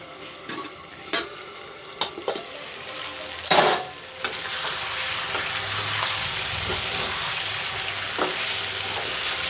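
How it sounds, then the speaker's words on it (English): Chicken and masala fry in a pan for bhuna jeera chicken, with a steady sizzle that builds after a few sharp clinks and stirring scrapes of a utensil against the pan at the start. "Now I will fry the masala along with the meat"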